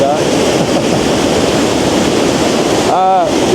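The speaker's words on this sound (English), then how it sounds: "I love this waterfall in the foreground here" A waterfall on Vancouver Island roars as a loud, continuous broadband rush close by, with wind buffeting the microphone and a brief tonal warble near the end.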